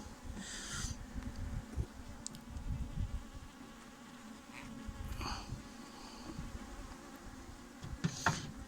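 Faint, steady buzzing of honeybees rises from an opened hive during inspection, with occasional individual bees zipping past closer and light handling noises.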